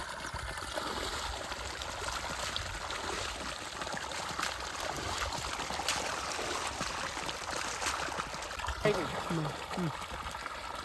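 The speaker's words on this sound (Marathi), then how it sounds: "चांगल्या प्रेशरचं पाणी आहे" Water rushes steadily from the 3-inch pipe of a Rotomag solar pump on a farm, a continuous broad gushing wash with faint voices in the background.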